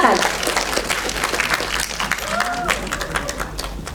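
A festival opening-ceremony audience claps in a dense, steady wash of applause that carries on throughout, with some crowd murmur and voices mixed in.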